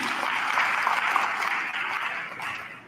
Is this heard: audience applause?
yes